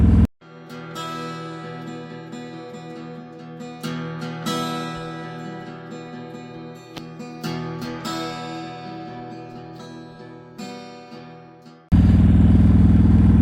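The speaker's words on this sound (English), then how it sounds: "You can't ask for better weather to go on a little motorcycle scoot." A motorcycle engine hums and rumbles steadily throughout, with rising revs and rattles, ending in a burst of wind noise.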